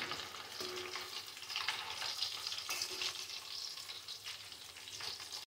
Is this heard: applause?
no